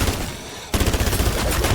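FR Advancer rifle in Call of Duty MW2 Zombies, a rapid burst of gunfire that starts abruptly after a quiet moment and keeps up as a loud, dense stream of shots.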